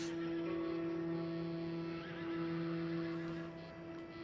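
A horse in Red Dead Redemption 2 gives a loud, drawn-out neigh over a constant droning hum of game sound, with a faint trailing whinny near the end.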